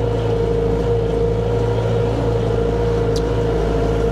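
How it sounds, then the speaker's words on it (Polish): Loud, steady engine and exhaust drone of a tractor heard from inside the cab, a constant heavy low hum with a faint brief squeak partway through. "Zamknę trochę szyber dach, bo strasznie głośno jest od tego, od wydechu."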